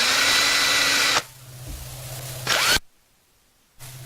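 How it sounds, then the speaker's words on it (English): A power drill bores a pilot hole into a door jamb for a doorknob, a loud whirring burst of about a second, a quieter stretch, a brief second burst, then silence before the motor starts again. "drill you a pilot hole"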